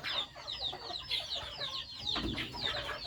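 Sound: chickens in a coop

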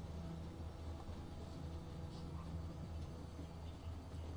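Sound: moving train in The Walking Dead video game

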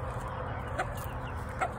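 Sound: chickens clucking

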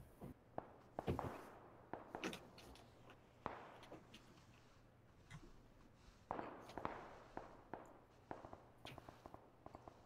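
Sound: gunshots in a video game

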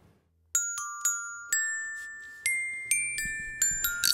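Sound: musical intro of the show's familiar theme song

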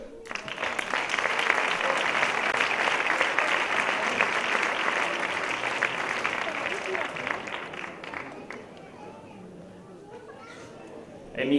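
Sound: audience applause at sports award gala

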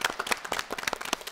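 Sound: audience applauding the English teachers

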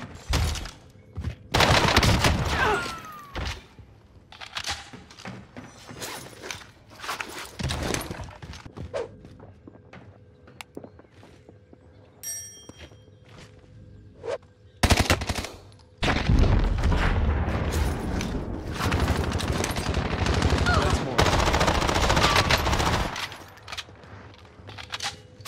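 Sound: gunfire from a hard-to-control gun in video game Warzone

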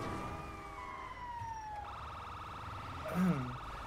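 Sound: ambulance siren in GTA 5 video game

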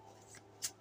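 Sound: shuffling tarot cards

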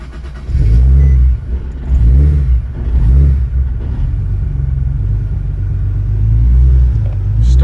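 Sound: supercharged Nissan 370Z full throttle pull in third gear

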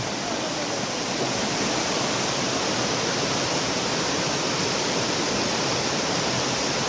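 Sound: waterfall at Khao Laem National Park, Kanchanaburi

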